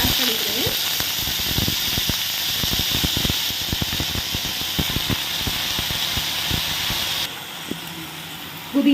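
Mint leaves sizzle and hiss in a hot pan as they sauté for chutney, a steady close frying crackle with scattered stirring clicks, briefly quieter near the end.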